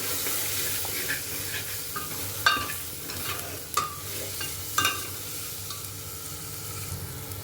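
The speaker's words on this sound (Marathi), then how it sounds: "आता सगळे मसाले घालूया आणि मिक्स करूया" Spices being stirred into hot oil for pav bhaji in a pressure cooker, with steady soft sizzling and a few sharp scraping clinks of the spoon against the pot, no talking.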